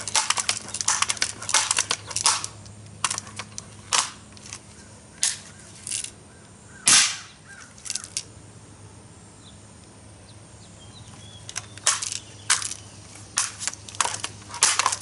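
Pellets from a Daisy 880 Powerline air rifle striking a backstop, a string of sharp crisp snaps and thuds spaced irregularly, some in quick clusters, with a quiet gap in the middle.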